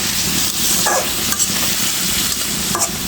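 Cauliflower and slit green chillies stir-frying in a pan with a little hot water, a loud continuous sizzle with scraping stirs and occasional clinks of the spatula.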